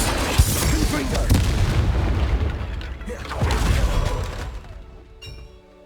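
Confringo blasting spells from Hogwarts Legacy go off as heavy booming explosions, one early and another midway, each with a crackling, rumbling tail that fades to a quieter close.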